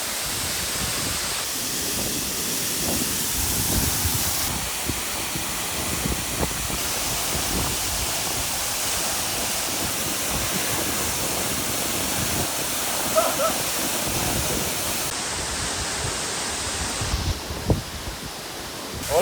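Waterfall in Indonesia, a gigantic cascade with swimming water below, roaring as a steady loud broadband rush throughout, with brief splashes and slight shifts in tone near the end.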